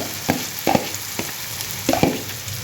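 Mashed raw banana and peas are stirred in a pan for Jain pav bhaji, a spoon scraping and sloshing in soft, irregular strokes over a light steady sizzle, with no talking.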